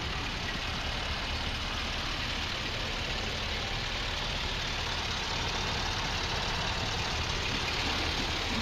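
A 2004 Chevy SSR's 5.3-liter V8 engine idles nearby with a low, even rumble that holds unchanged throughout, with no voices.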